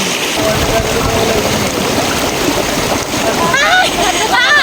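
Shallow mountain creek water splashing and rushing steadily outdoors during a riverside picnic, loud and close throughout, with people talking over it.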